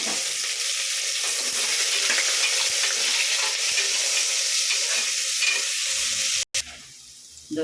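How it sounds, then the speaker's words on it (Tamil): Onions fry in oil with bay leaves and a split green chilli for a biryani-style rice dish, giving a loud, steady, close sizzle that hisses without pause, with a brief cut near the end. "இந்த வெங்காயம் போடுறேன்."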